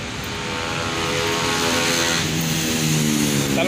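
A motorcycle engine by Manila Bay runs steadily and grows slightly louder, a continuous droning hum with rising harmonic tones, no voices.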